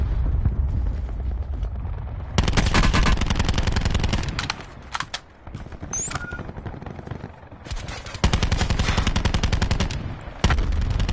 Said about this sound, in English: And they're shooting me with vendettas.